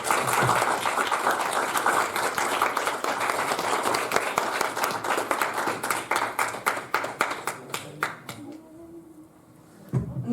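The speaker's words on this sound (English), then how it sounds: "Another round of applause for Steve, please." An audience claps after a motivational speech, giving sustained, dense applause that thins into scattered claps and fades near the end.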